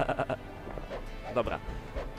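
Sheep bleating in the video game King's Bounty, a few short bleats rising over game sound while someone talks throughout.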